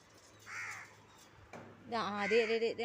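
Crows caw close by in a few short, harsh calls, a single cry first and then a louder burst near the end, with some talk in the background.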